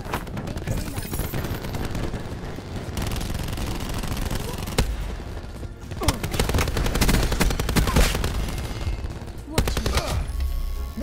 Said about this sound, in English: He shot me through like four different walls. Is that how OP the Annihilator is?